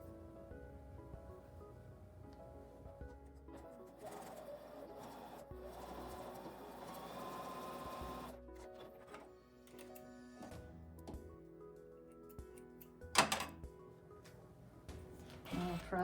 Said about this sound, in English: And I will sew right sides together.